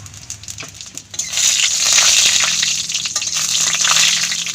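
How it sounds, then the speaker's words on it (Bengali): Dry red chillies and panch phoron are dropped into hot oil in a kadai. A quiet start gives way to a loud, sustained crackling sizzle that holds steady to the end, with no voices. "কড়াতে তেল দিয়ে দিব তেল গরম হয়ে গেছে শুকনো লঙ্কা আর পাঁচ ফোড়ন দিয়ে দিব"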